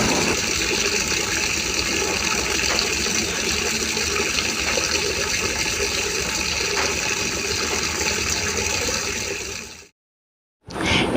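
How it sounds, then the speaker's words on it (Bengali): Water running from a tap into a container as it fills, a steady, loud gushing stream that continues without a break for about ten seconds, then cuts off briefly and resumes. "সেজন্য আজ আমি জল ভরতে এলাম"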